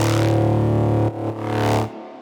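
A thick, distorted synth tone with a steady buzzing drone, briefly cutting out twice before swelling again and stopping abruptly.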